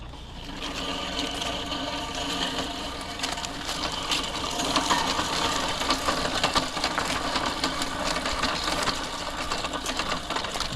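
A Fiskars StaySharp Max reel mower cutting grass, making a fast, even whirring clatter of spinning blades that carries on steadily as it is pushed along.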